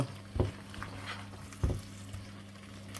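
Deer curry being stirred and fried in a pan, with a faint steady sizzle and two distinct scraping strokes from the spoon, heard close and quiet with no talking.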